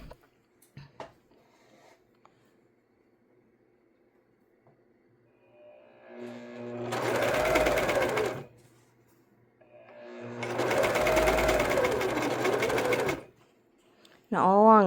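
A sewing machine with a cutter foot stitches a shirt sleeve in two bursts of a few seconds each, separated by quiet pauses, with light handling noises in between.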